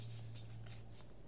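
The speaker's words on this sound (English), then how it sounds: "I'm just gonna shuffle them again just to see how I'm doing here." A deck of playing cards being shuffled, a soft, close run of riffling flutters over a low steady hum.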